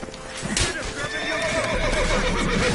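A horse in the video game The Witcher 3 lets out a long, loud whinny that trails off over a couple of seconds, with faint hoof clatter in the background.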